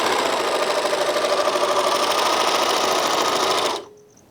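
A Janome 644D serger overlocker runs with its cutter engaged, a fast steady mechanical whir and rattle close up that holds for several seconds and then stops abruptly, leaving quiet.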